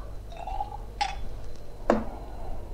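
Hot pine-cone syrup is poured into a glass jar, with a few short liquid glugs and splashes separated by pauses over a low background hum.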